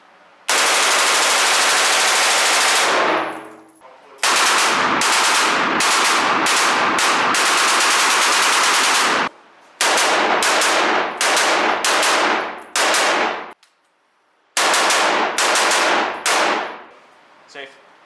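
A rifle with a binary trigger fires rapid shots in several long, loud, close bursts, with brief silent pauses between strings of fire.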